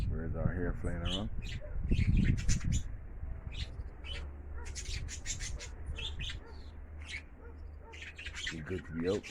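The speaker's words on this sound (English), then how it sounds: "Birds are here flying around." Loft pigeons flying around outdoors on a cloudy day, their bird calls and squawks mixed with wind noise, with someone talking over them.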